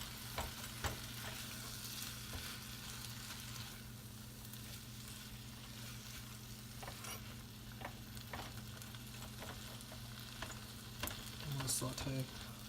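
Tomatoes sauté over raised heat in a pan for Turkish menemen scrambled eggs, a steady frying sizzle running throughout with a few sharp spatula clicks and scrapes, loudest near the end.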